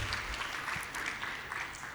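Audience at a school graduation ceremony applauding students, soft and fairly distant clapping spread evenly across a short stretch.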